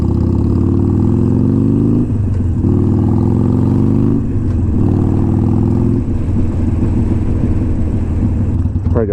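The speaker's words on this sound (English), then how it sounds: "I just love the sound that this bike makes when it's just at ease." Harley-Davidson Iron 883 motorcycle fitted with Vance & Hines exhaust, heard up close with a deep, steady engine burble at easy cruise that dips and swells a few times as the throttle eases.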